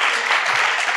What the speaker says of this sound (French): on peut l'applaudir pour commencer.